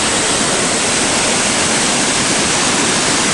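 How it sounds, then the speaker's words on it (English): Josephine Falls waterfall still has water pouring down into its pools: a loud, steady, unbroken rush of falling water from start to finish, with no speech. "This is the Josephine Falls, and I thought it'd be dry, but there's still water coming down"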